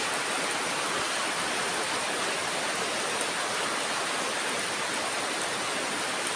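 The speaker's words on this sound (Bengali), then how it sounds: "দেখো অনেক বৃষ্টি হচ্ছে।" Heavy rain pours down in a steady, dense hiss that stays loud and unbroken from start to finish, with no voices over it.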